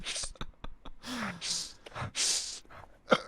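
Forceful, aggressive sniffing comes in several sharp bursts of quick nasal inhales, heard close up with short gaps between them.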